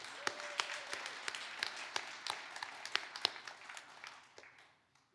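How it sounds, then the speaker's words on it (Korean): A church congregation at an Easter union worship service applauds a guest speaker with scattered, moderately faint clapping that thins out and fades toward the end. "박수로 환영합시다."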